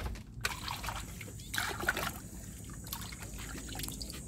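Fresh seafood being washed under water: steady trickling and splashing with sloshing, close and continuous, with a few louder splashes as the seafood is rinsed.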